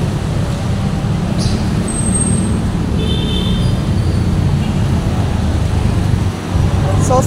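Steady street traffic hums around the Blumentritt LRT station, a dense continuous roar of passing vehicles with a brief high squeal and chirps, with talk faintly mixed in.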